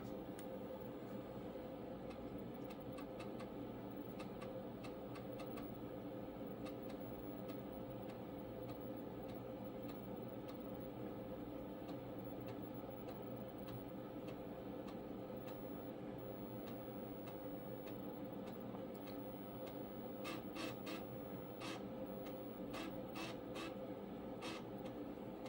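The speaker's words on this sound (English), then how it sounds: "we get to enjoy that amazing floppy sound again" Floppy disk drive in a Tandy computer copying files from a 5.25-inch floppy: a steady low mechanical whir with rapid clicking head-seek ticks, bursts of ticking near the end, close and fairly quiet, no talking.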